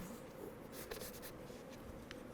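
Masking tape being pulled and pressed onto wood for a glued joint: a brief crackling tear and soft rubbing against a steady hiss, quiet and close, with no speech.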